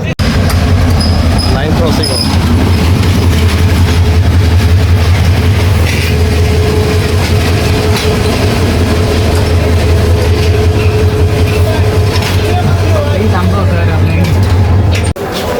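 A passenger train runs from Sylhet toward Chittagong in Bangladesh, its loud continuous low rumble and rattling wheels filling the carriage without pause, with occasional faint clanks and creaks.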